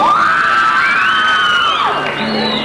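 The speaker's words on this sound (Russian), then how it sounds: "Ваши аплодисменты лично Айсулу." A dance contest audience cheers loudly, with whoops and high shouts rising over a dense crowd roar for a few seconds.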